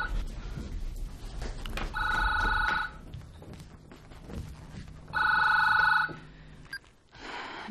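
A telephone rings twice with a bright, trilling electronic bell, each ring about a second long, separated by a pause with quiet room noise.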